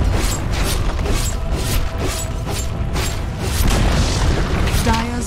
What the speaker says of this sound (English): Dire's bottom tower has fallen.